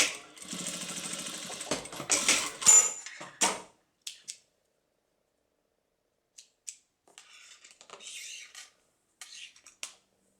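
A sewing machine runs a safety seam on a fabric bag in a fast rattling burst of stitching, then stops, followed by scattered faint clicks and rustles of handling fabric.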